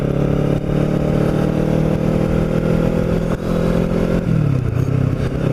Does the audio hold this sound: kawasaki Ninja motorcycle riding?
yes